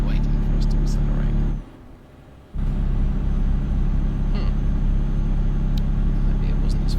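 A heavy truck accelerating in Euro Truck Simulator 2, its engine a steady, loud low rumble and drone that briefly drops away for about a second before returning.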